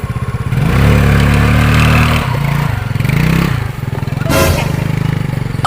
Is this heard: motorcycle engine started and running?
yes